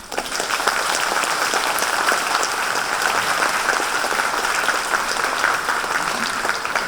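Steady, even applause from a lecture audience at a university talk, thanking the translators, a dense wash of clapping from a moderately distant crowd with no talking over it.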